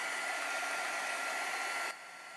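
A heat tool blows with a loud, steady whoosh while drying a watercolor card, then its airflow softens abruptly near the end.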